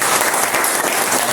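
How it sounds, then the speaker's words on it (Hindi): Classroom audience of railway trainees gives a loud, dense burst of continuous applause for their teacher, a steady wash of many hands clapping close by. "उनके लिए ताली बजाओ सर के लिए"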